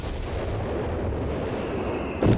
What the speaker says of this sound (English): Machine gun there, raking the rifle from there.